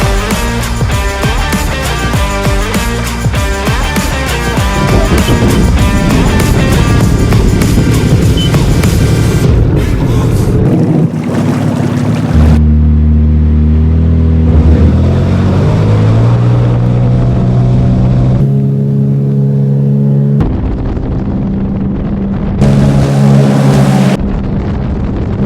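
A Sea-Doo Spark personal watercraft runs loud and close, its engine note rising and falling through several revs with short cutouts and pauses, alone without talk.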